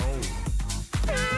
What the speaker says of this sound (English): This cat sounds like Arnold?